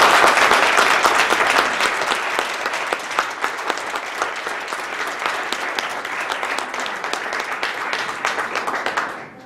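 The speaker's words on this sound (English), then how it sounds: "huge big round of applause to these filmmakers" A post-screening panel audience at a queer Asian cinema event applauds the filmmakers, steady dense clapping that stays loud throughout and thins slightly toward the end.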